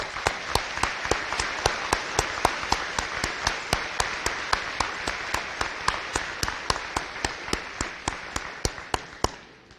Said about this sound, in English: I think another round of applause is in order here.